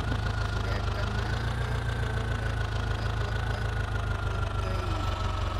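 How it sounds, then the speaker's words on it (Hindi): A Power Trac tractor engine in a video game runs steadily, a loud, continuous low rumble with a rapid knocking pulse that stays constant throughout. "पावर ट्रैक ट्रैक्टर, और इसको चलकर स्टार्ट कर देते हैं।"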